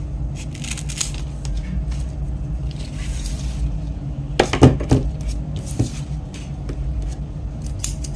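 Scissors snip through a banana leaf being trimmed into a curved, angled shape, giving a run of crisp cuts with a louder cluster midway over a low background rumble.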